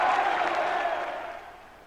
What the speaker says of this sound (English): Celtic taking the deserved cheers of the packed crowd here at Easter Road